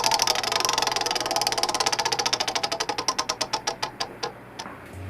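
A Honda Ruckus scooter wheel spins freely on its axle while being balanced, a rapid rhythmic ticking that begins fast and gradually slows as the wheel coasts down, close and clear with no talking.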